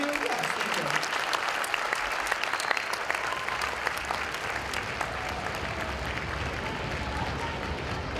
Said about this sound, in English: That's a skill we learn about clapping for each other when we're playing in class.